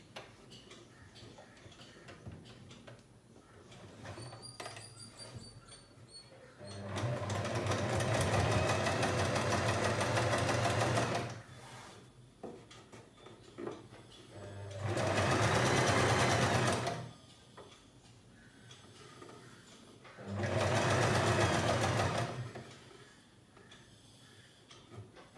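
A sewing machine top-stitches a churidar neck in three sustained bursts of loud, rapid mechanical whirring and ticking, close by, with quieter pauses and handling sounds in between.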